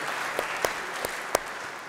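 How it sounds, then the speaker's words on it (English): A church congregation claps at an Easter Vigil Mass, a soft, steady rumble of many hands with a few distinct sharper claps popping out from the wash. "Clap for yourselves."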